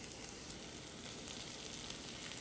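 Garlic and onion fry in a hot pan with a steady, even sizzle that holds at a constant close level throughout, with no talking.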